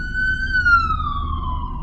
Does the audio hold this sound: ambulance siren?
yes